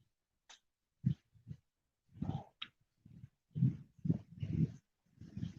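Puppies at the beach, three of them, giving soft breathy whimpers and small snuffling noises in short separate bursts, close and quiet with silence between.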